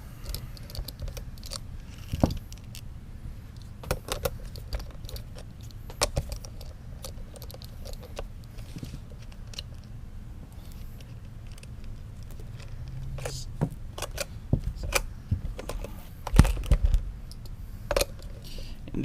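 Roller skate axle nuts being loosened and removed with a Y tool: scattered close metallic clicks and taps, some in quick clusters, fairly quiet, with no talk.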